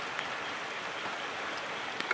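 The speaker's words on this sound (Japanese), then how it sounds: "いや 雨が強くなってきたよ" Heavy rain falls steadily outdoors during a trout fishing tournament, a dense continuous hiss with a few louder drop impacts near the end and no voices.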